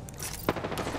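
Gunfire in the battle royale game Apex Legends: a brief, fairly quiet burst of shots with one sharper crack standing out near the middle.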